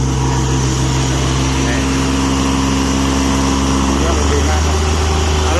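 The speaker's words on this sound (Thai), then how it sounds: "นี่เราเร่งเครื่องตัวนี้นะ" An old Japanese three-cylinder diesel engine on a welding generator drones loudly and steadily, then revs up near the end, its low hum climbing in pitch.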